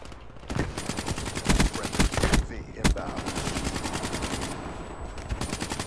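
Rapid automatic gunfire in a Call of Duty match, loud sustained bursts of machine-gun shots with brief pauses between them and a sharp single crack near the middle.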